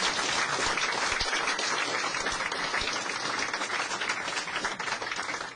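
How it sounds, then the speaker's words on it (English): An audience claps at a community event in a building in Barnstable, dense and fairly loud applause sustained throughout, tapering slightly toward the end with no voices. "let's have a great round of applause for people"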